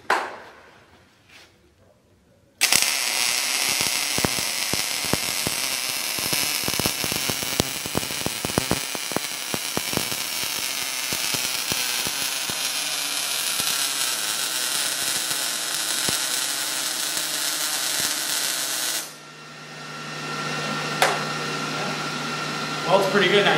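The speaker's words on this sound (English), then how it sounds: "We're going to MIG weld with it, just see how it runs" A Miller Multimatic 215 running auto-set MIG welds on 1/8-inch steel gives a steady, loud broadband crackling hiss for about sixteen seconds, with fainter handling noises before and a softer hum with a cooling fan afterward.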